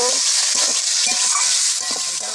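Pasted garlic, ginger, cumin and ground pepper being stirred and fried in hot oil, with a steady close sizzle and soft scraping stir strokes throughout, no talk.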